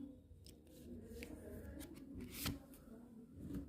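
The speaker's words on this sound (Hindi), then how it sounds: "एक कार्ड और निकाल लेते हैं" Tarot cards are shuffled and drawn close by, giving soft papery rubs and a few crisp slaps and flicks in an uneven rhythm, faint overall, while someone talks quietly.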